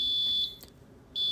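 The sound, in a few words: electronic buzzer alarm pulsing on and off, driven by 555 timer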